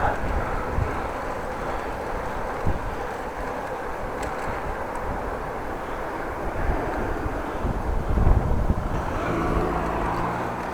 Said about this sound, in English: It's a little windy, a little more windy than I